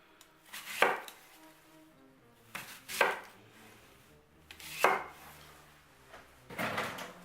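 A knife chops through Honeycrisp apples on a cutting board, four separate cuts landing at an unhurried, fairly even pace. Each one is crisp and close, with quiet pauses between them.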